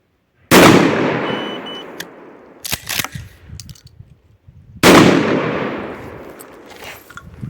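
Two loud gunshots about four seconds apart, each with a long echoing decay, and some clattering handling noise in between, from test-firing gunpowder loads (SP-Z-K, S7, S7L, 206V) at different charge weights.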